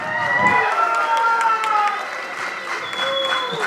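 Audience clapping fills the room at a Tamil film audio launch event, a steady wash of applause with some cheering mixed in, moderately loud and continuous.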